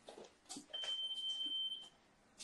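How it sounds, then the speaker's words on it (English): A steady, high-pitched electronic beep sounds for about a second amid faint clatter and soft indoor noise. "I've been tasked with one important thing with this baking, and that is to stop it beeping"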